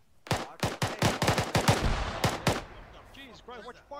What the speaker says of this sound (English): That was a hand grenade.